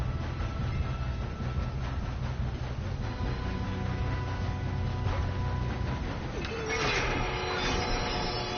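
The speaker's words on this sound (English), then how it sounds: "If we don't stop this train soon" Steady rumble of a train running on rails in a snowy video game setting, a continuous loud roar with faint metallic squeals, voices speaking over it.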